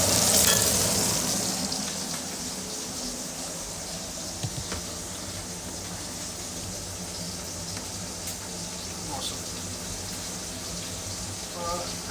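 Steak and garlic fry in a pan, a dense continuous sizzle with scattered pops and crackles, steady and close for the full stretch, louder at the start.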